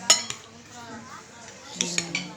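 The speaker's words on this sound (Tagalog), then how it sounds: "Halo-haloin ko pa rin ulit kasi nilagay ko yung suka, paminta, asin, patis hanggang malasahan siya." A spoon clinks against a bowl while raw fish kinilaw is mixed with vinegar, pepper, salt and fish sauce: a few sharp clinks at the start and near the end, with soft wet stirring between.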